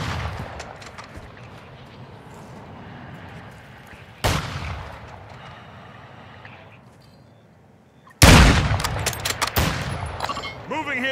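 Gunfire in a video game shooter, with sharp loud bursts standing out at two points and a heavy, sustained barrage near the end over a busy background of game sounds.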